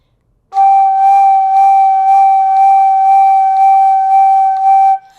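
Flute holding a steady middle G with slow vibrato in eighth-note pulses, a clear bright tone with gentle regular swells, close and loud, alone for about four and a half seconds before stopping.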